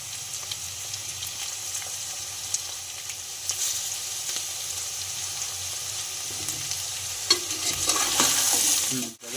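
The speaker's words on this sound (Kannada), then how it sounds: "ಅದಕ್ಕೆ ಹಿಂಗೆ ತಿರು ತಿರುಸ್ಕೊಂತಿರ್ಬೇಕು" Garlic paste frying in a pan while being stirred for a bachelor-style palav, a steady close sizzle with scattered scraping taps of the spoon, rising louder toward the end.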